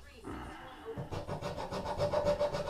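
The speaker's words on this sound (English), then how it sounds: "we're going to try to get the center here with the triangle file, and we're going to file it" A triangle file rasps across bamboo in steady back-and-forth strokes, about eight rhythmic close scrapes after a short quieter start, with no talking.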